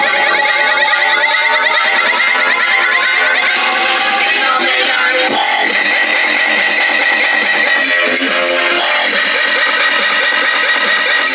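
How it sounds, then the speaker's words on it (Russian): Car stereos blast music at full volume during a loudness competition at a district-day event, a dense, harsh, distorted wall of sound that stays constant and overwhelming throughout. "По команде ведущего водители авто включали магнитолы, стараясь выжать максимум своих ласточек."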